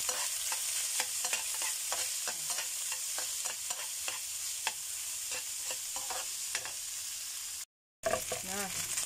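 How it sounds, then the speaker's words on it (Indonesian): Chicken meat with green chilies stir-fries in a hot pan, a steady sizzle broken by many quick scraping and tapping utensil strokes, up close, with a brief silent gap near the end. "Nah, kita goreng. Lanjut kita masukkan dagingnya ini ya."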